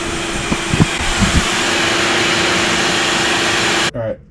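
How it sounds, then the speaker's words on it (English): A Craftsman 8 horsepower shop vacuum running on solar power roars with a steady, loud whine after a few clunks at startup, then cuts off abruptly near the end and spins down. "Next thing I'm going to hook up is a Craftsman 8 horsepower vacuum."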